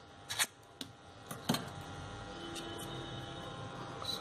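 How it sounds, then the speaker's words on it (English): Scissors curl the tips of crepe paper flower tepals in a few quick, soft scraping strokes near the start, faint and close, followed by quiet room hiss. "Scissors just curl the top"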